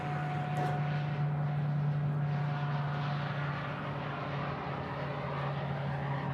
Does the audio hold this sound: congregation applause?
no